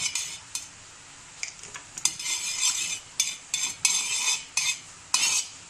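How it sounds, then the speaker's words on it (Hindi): Spoon stirring menthol into oil in a small container, giving a series of bright clinking and scraping strokes in an irregular rhythm, close and clear, with no voices. "अच्छी तरह मिक्स कीजिए। नेक्स्ट 1 टेबलस्पून मेंथॉल ऐड कीजिए।"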